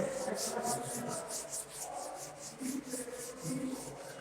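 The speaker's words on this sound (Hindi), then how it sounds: "इसको मैं रब करता हूँ" A board duster rubs out chalk writing in a classroom during a trigonometry lesson, making steady rhythmic scrubbing strokes, close and fairly loud, with no talk.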